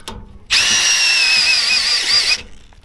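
A Milwaukee power tool spins up on a speed binder, one steady high whining run of about two seconds, close and loud, starting abruptly and cutting off cleanly.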